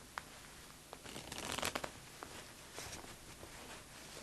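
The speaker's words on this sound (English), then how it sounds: "you continue the shuffle by letting the cards drop from your left hand" A deck of playing cards is worked through a false shuffle, with a quick riffle of cards dropping from the hand in a dense burst of soft ruffling flutters and a few crisp snaps, heard close with no talking.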